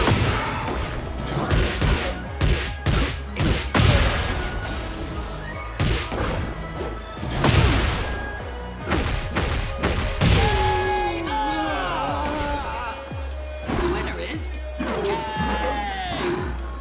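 Punches and hits land in a Tekken 8 boxing fight, a video game, as heavy smashes and thuds in rapid flurries and single blows, with grunts and effortful voice sounds between the impacts.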